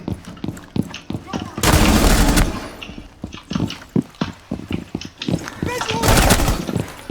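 Repeated gunfire in the video game Rainbow Six Siege, loud close shots arriving in rapid bursts and single cracks, with two longer sustained volleys, dense and continuous across the whole stretch.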